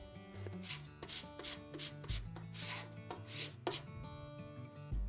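A stencil brush or tool scrapes chalk paint across a wood craft in repeated quick, rasping strokes, close and fairly quiet, in a steady rhythm.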